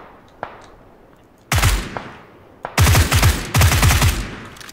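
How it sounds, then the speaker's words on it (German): Automatic rifle fire in the PUBG video game: a couple of single shots, then three loud, rapid bursts of suppressing fire close by, separated by short pauses. "Ich schieße einfach nur drauf, um ihn ein bisschen zu suppressen."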